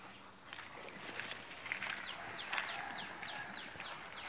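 Ducks being fed handfuls of complete-feed pellets: soft, scattered clucking and chirping calls with light shuffling steps, fairly faint and close by, with no talking.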